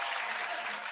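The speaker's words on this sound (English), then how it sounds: "Applause sound." Dense, steady applause from a comedy competition audience, a continuous wash of clapping at even loudness throughout, with no voices on top.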